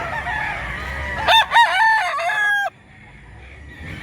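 A rooster crows once, loud and close, a rising then sustained harmonic call lasting over a second before cutting off, with low background murmur before and quieter ambience after.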